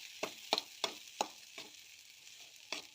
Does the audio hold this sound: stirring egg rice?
yes